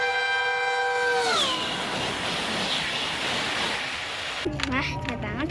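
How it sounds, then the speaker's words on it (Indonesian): Horn of a toy high-speed train, a sustained multi-tone blast that bends downward in pitch, followed by a rushing rumble and then a voice speaking. "Terus sih namanya kereta cepat teman-teman."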